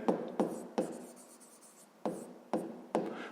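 A pen writes a math answer by hand on paper, with several short, close scratching strokes separated by pauses, quiet and alone.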